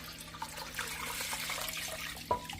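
Water is poured over a freezer-burnt beef roast in a crock pot, giving a soft, continuous trickle and splash that ends in a brief sharper slosh.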